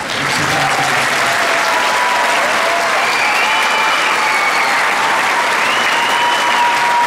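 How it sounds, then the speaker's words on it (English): A large crowd at a high school graduation ceremony applauds the graduates, with broad, sustained clapping throughout. Faint voices and a few whistles or cheers rise above the steady applause. "ask for one final round of applause for all of our graduates"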